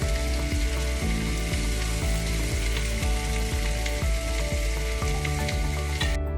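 Salmon fillet frying in a hot pan after being flipped, a steady loud sizzle with crackling pops running throughout.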